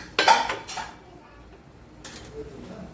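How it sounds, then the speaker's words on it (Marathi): A spoon drops mustard seeds into hot oil in a kadai, giving a sharp metallic clink and brief crackle, then a quieter second scrape a moment later. "मी आता इथे अर्धा चमचा मोहरी टाकून घेतलेली आहे"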